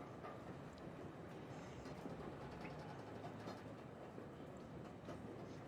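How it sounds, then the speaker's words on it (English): Train in the video game Secret World Legends, Scorched Desert area: faint, distant rumble of rolling rail cars with soft clickety-clack, steady and low throughout with no speech. "trains, endless trains, are just very familiar and almost comforting to me"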